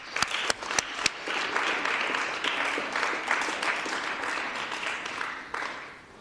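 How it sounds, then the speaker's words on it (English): Audience applause at a youth parliament for blind and visually impaired people, a steady wash of clapping throughout with a few sharp, distinct claps at the start, then sustained and tapering slightly at the end. "can we please have another round of applause for him?"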